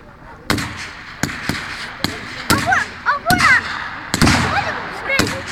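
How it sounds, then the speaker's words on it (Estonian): Simulated anti-tank cannon shots aimed at an armored vehicle during a mock battle at a Rapla defence day show: a series of sharp, loud bangs spaced about a second apart, with crackling bursts between them. "tankitõrje kahur sellise imitatsiooniga sooritas lasu soomuki pihta"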